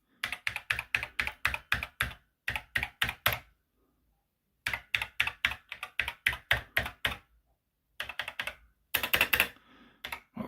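Keys on an Acorn Electron computer keyboard being tested, heard as loud, close bursts of rapid clacking keystrokes in rhythmic runs separated by short pauses, with no talking.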